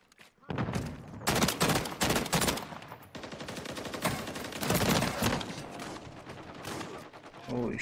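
Rapid bursts of automatic rifle fire from a DG 58 burst-fire assault rifle in Call of Duty: Modern Warfare 3, loud and close, repeated volleys with short pauses and a little talk.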